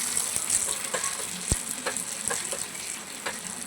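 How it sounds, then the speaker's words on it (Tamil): Spices sizzle and crackle steadily as they temper in hot oil for a fish curry, with a sharp pop partway through, fairly close and fairly quiet. "தாளிக்கிறது பாருங்கள்"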